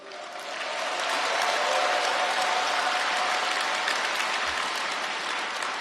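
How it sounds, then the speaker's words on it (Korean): A large audience at a Saemaul Undong movement ceremony applauds, the clapping swelling up quickly and holding steady as a dense, even roar of many hands, with no talk over it. "여러분에게 뜨거운 격려의 박수를 보내드립니다"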